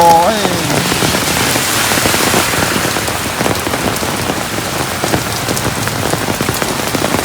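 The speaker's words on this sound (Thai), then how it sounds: "ครบสูตรเลย ทั้งฝนทั้งลมทั้งฟ้าร้อง" Heavy rain pours steadily and loudly throughout during a thunderstorm with wind, a dense continuous hiss of drops striking surfaces close by, with no voices.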